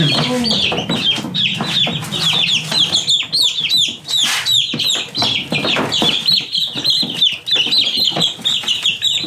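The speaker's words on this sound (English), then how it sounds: "The little baby chicks." Baby chicks cluck and squawk busily up close, a flurry of short agitated calls, with occasional voices talking underneath.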